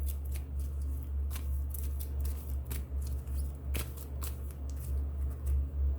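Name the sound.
drawing cards from an oracle card deck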